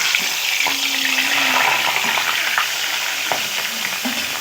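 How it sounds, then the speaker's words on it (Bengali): Large katla fish heads rubbed with salt and turmeric frying in plenty of hot oil, giving a steady, close sizzle with occasional soft clicks and scrapes as they are turned. "মাছের মাথাগুলোকে লাল লাল করে উল্টে পাল্টে ভালো করে ভেজে নিই"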